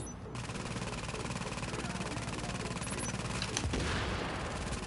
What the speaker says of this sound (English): Yeah, have a turret.